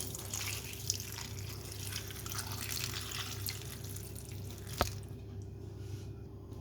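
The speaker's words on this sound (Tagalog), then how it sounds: "Tapos maglagay ako ng tubig." Water poured into a cooking pot while making chicken paksiw, a steady trickling and dripping wash that continues for several seconds, then cuts off abruptly near the end after a sharp clink.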